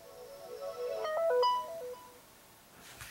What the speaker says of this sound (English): we do have those familiar Vienna Boys Choir ringtones or notification tones that we're familiar with on the LG G2